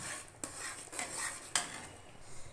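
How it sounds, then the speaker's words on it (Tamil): Bun halwa mixed with bread crumbs being stirred in a pan, with a few sharp spoon scrapes and clinks against the metal over a soft, steady background. "போட்டு நல்லா அப்படி கிளறி விட்டுக்கிட்டே இருப்போம்"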